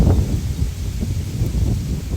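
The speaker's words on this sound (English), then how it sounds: "It's very windy." Steady wind gusting against the microphone, a low rumbling roar with rustling, continuous throughout with no voices.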